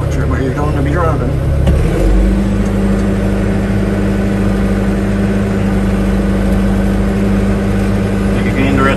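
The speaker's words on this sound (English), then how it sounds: "Alright, clutch in. Put it in second." A farm vehicle shifted into second gear drives along, its engine a steady loud low rumble with a continuous hum throughout, and a person talks over it.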